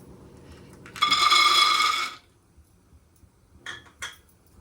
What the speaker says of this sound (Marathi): आता आपण शेंगदाणे भाजून घेऊया